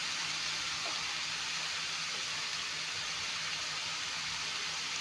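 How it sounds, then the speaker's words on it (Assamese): Ash gourd with fish fries in a pan, giving a constant dense sizzling hiss at moderate loudness from start to finish, with no talk over it. "এতিয়া এইখিনি অলপমান ভাজি লৈ লওঁ।"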